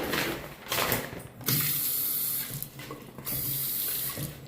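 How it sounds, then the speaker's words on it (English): Water from a bathroom faucet with low pressure runs into a sink in bursts that stop and start, with a few handle clicks between spells, close by and with no voices. "Not a ton of water pressure on that one."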